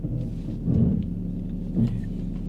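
A BMW Z4 with new wheels and a new strut pulls away on its first drive, its engine a low steady rumble from inside the cabin that swells briefly twice.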